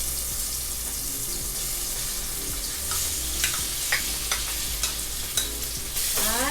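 Pork and tomatoes sizzle and fry in a pan while being stirred, with a steady crackling sizzle and scattered clinks and scrapes of the utensil against the pan, close and moderately quiet, no talk.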